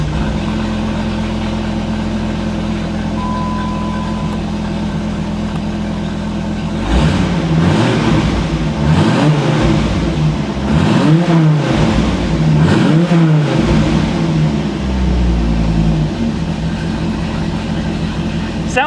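A Dodge Viper's aluminum V10 idles with a rough, low rumble, then is revved several times in a row, each rev rising and falling, loud and close.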